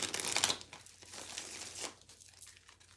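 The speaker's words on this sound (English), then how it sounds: "So I'm just getting resituated, shuffling all my cards up." Playing cards being shuffled up, a crisp papery riffling burst at the start, then quieter crinkly rustling continuing faintly to the end, with no talk.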